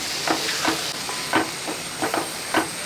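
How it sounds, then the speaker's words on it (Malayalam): Okra curry seasoned with salt is stirred in a pan, giving soft scraping strokes about every half second over a steady low sizzle, close by and with no talk. "ഇതെല്ലാം കൂടെ കൂട്ടി ഒന്ന് ഇളക്കി കൊടുക്കും"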